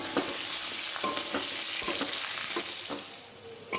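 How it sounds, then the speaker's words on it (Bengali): Sliced potatoes with a little salt are stirred and fried in hot oil in a pan, a steady sizzle broken by repeated spatula strokes scraping the pan at an even rhythm, close and clear. "দিয়ে আমি আলুগুলোকে সুন্দর করে নেড়ে চেড়ে ভেজে নেব"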